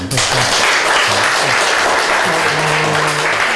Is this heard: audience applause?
yes